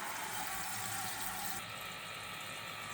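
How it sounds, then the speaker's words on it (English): Steady hiss and rush of hot water flowing from a camp shower pump, constant and close throughout, with a slight change in tone partway through. "we're still flowing hot water, perfect for a shower"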